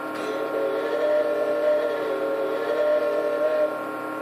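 Steady simulated train running along a railway in Garry's Mod, with sustained whistle-like tones over a low rolling hum, moderately loud and continuous with no talking.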